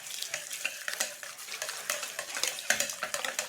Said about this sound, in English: We'll whisk that all together